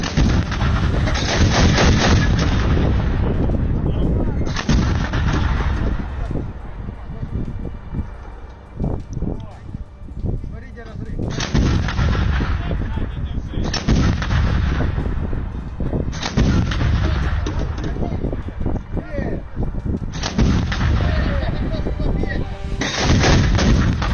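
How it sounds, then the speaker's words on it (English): A Swedish 40mm Bofors L-70 anti-aircraft gun fires in loud outdoor bursts of rapid heavy thuds, several sustained volleys separated by brief pauses, with wind buffeting the microphone. "The Ukrainian military fire from the Swedish 40mm Bofors L-70 anti-aircraft gun."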